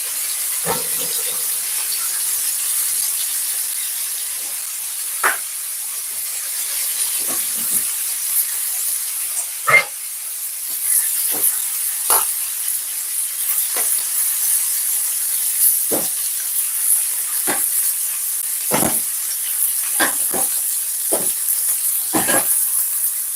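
Seasoned food fries in a pan with a steady, bright sizzle and hiss, broken by scattered sharp pops and crackles, close and loud throughout.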